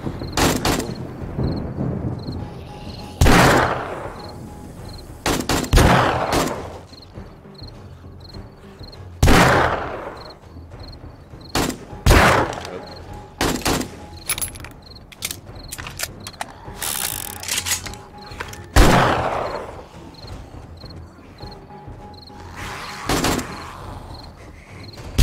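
Bursts of AK rifle fire during a zombie horde attack in the video game 7 Days to Die, several loud sharp volleys spaced irregularly over mechanical clicking and clatter, with no talk.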